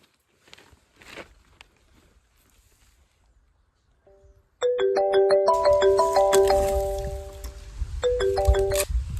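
A mobile phone ringtone from an incoming call starts abruptly as a loud, steady melodic electronic tune, repeating and filling the rest of the clip, after a short stretch of faint rustling and quiet movement.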